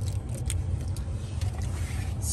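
2014 Kia Rio with its engine started and idling smoothly, a steady low rumble close by, with faint small clicks and rattles on top and no talk.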